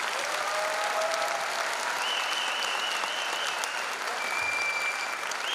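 An audience at the KUD Ilinden Bitola folk ensemble's annual concert applauds steadily and loudly throughout, a dense continuous clapping from a large crowd with a few faint whistles.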